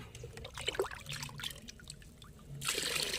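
Liquid fertilizer poured into four liters of water, a close trickling and splashing that swells into a fuller, steadier pour near the end.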